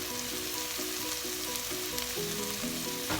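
Bhuna chicken fries in a pan as garam masala is sprinkled in, giving a steady close hiss of sizzling oil throughout with a low rhythmic hum underneath and a small knock at the end.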